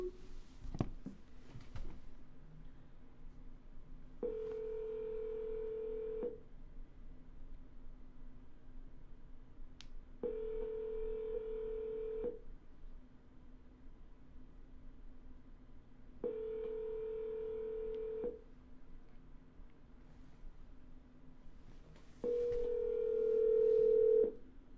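A phone call rings out: a steady electronic ringback tone sounds in four evenly spaced two-second bursts over a low background hum, with a brief click at the start.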